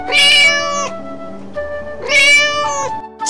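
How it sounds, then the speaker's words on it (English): A cat meows twice loudly and close by, two drawn-out tonal calls separated by a short pause, with the start of a third at the end. "Cat."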